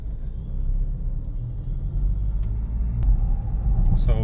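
A Mahindra Scorpio-N cruises along a highway, heard from inside the cabin as a steady low engine and tyre rumble with road noise, a couple of faint clicks, and a brief chime near the end.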